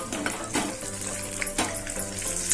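Two dried red chillies fry with cumin seeds in hot oil for a tempering, a close, lively crackling sizzle with occasional light scrapes of a spoon.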